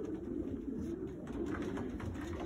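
Racing pigeons coo in a loft, a steady low burbling chorus of several birds close by, continuous for the whole stretch with no talk.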